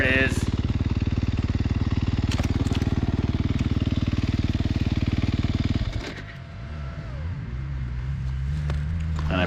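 A Sherco 300 SEF dirt bike ridden through sand on an off-road course, its engine droning loud and close with rapid pulsing, then dropping off abruptly and settling into a lower, lighter running tone.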